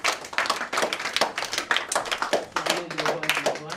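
Congregation clapping in acclaim of Jesus at a church gathering, many hands in a fast, dense rhythm, with a faint voice underneath near the end.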